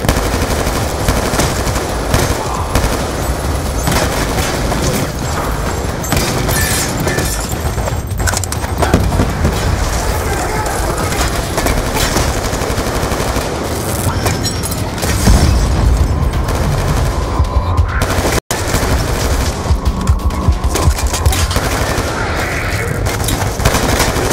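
Auto turret gunfire in Call of Duty Black Ops II, with dense, continuous rapid-fire bursts and booming impacts that stay loud and nearly unbroken, one brief cut near the end.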